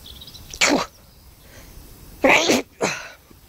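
Three sharp sneezes from an adult outdoors on a spring walk across a golf course, one short burst early, then two close together near the end, loud and close with quiet between.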